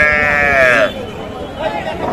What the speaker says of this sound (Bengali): শাহিওয়াল গাভি এবং বাছুর